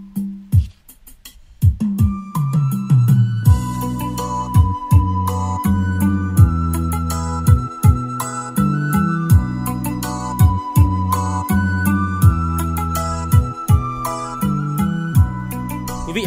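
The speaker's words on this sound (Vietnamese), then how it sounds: "Và sau đây là âm thanh đến từ chiếc loa kéo 5 tấc giá rẻ." Music plays through a cheap 5-tấc trolley speaker, a bass-heavy track with punchy regular beats and a sustained melody, loud and full with no talking.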